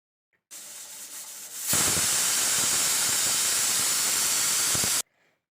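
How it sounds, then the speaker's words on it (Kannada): A pressure cooker cooking egg biryani vents a loud, steady steam hiss that starts softer, then surges to a strong sustained rush for several seconds before cutting off abruptly. "ಕುಕ್ಕರ್ ಬಾಯನ ಮುಚ್ಚಿ ಒಂದು ಅಥವಾ ಎರಡು ವಿಸಿಲ್ನ ಕೂಗಿಸ್ಕೊಂಡ್ರೆ ಆಯಿತು"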